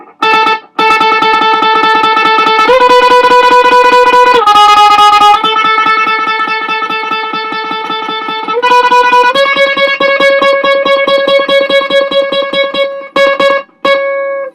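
Distorted electric guitar tremolo picking, fast continuous strums sustaining a few chord changes, loud and close, with brief pauses near the end.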